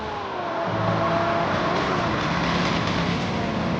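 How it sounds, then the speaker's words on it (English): A Bugatti EB110 engine roars steadily close by, a loud sustained drone with rising tonal whine as it accelerates. "This is the fastest of them all, the Bugatti EB 110."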